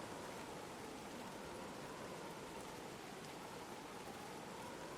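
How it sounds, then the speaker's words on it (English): Steady, dense rain pours down in the video game Gord, a continuous even hiss of falling water with no talk over it. "I see it's pouring down rain right now"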